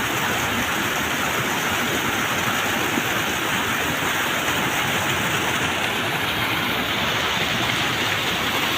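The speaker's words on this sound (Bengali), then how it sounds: "পানির শব্দ শুনতেছেন আপনারা" Water rushes steadily through a sluice gate into a river, a dense, unbroken roar of churning flow held at constant loudness throughout, close and without voices.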